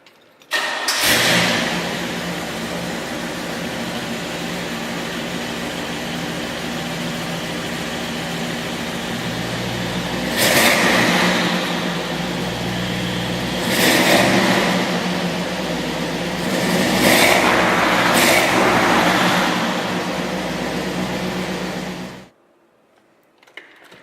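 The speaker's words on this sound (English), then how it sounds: "For a big cubic inch engine, it loves to rev, and pulls like a freight train in all four gears." A 1964 Chevrolet Impala SS with a dual-quad 409 V8 rumbles at a steady idle, then revs hard in three loud, rising bursts before cutting off into silence.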